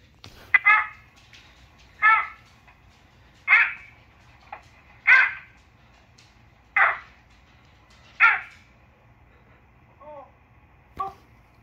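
A dog barks in a home, a series of about six evenly spaced single barks, fairly close and clear, with a couple of softer higher yelps at the end; no talking over it.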